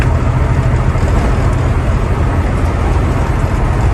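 Steady, loud road roar from a 2010 International Prostar truck cruising at about 77 mph on the highway, a continuous engine and tire drone with no talking.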